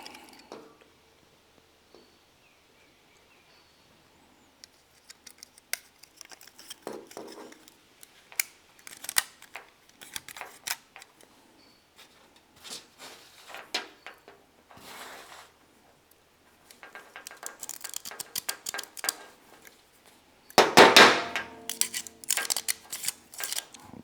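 An AVE utility knife with a modified spring, worked repeatedly with dirt in the mechanism, gives sharp close clicks and ratcheting snaps in irregular bursts, growing busier and gritty near the end.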